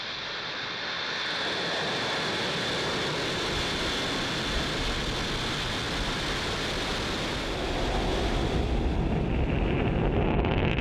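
A SpaceX Falcon 9 carrying 56 Starlink satellites thunders off the pad, a loud, dense, unbroken roar that holds for the full span and swells slightly near the end, with no voices.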